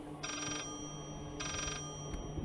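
Two short bursts of an electronic telephone ring sound in the horror video game Layers of Fear, repeating about a second apart over a steady low background hum.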